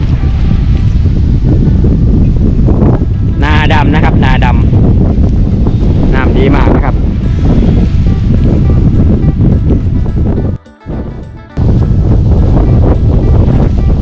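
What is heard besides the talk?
strong wind blowing over rice paddy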